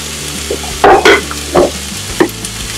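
Carrot and red pepper stir-fry in a wok, a loud close sizzle with several sharp bursts as the vegetables are tossed and stirred.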